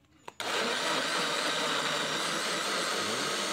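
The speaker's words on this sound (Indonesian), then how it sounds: "Dah, kita masukkan air ini 200 cc. Ya, dah. Kita blender." Kitchen blender starts abruptly and whirs steadily at high speed, blending banana, Yakult and water into a fruit fertilizer, loud and continuous after a brief click.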